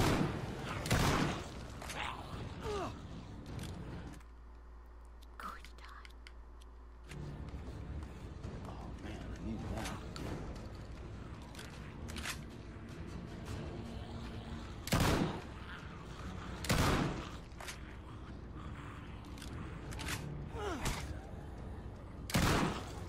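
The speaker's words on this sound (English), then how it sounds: "it's time to use a double barrel." A double-barrel shotgun in The Walking Dead video game fires several loud, booming blasts at irregular intervals, with voices speaking in between.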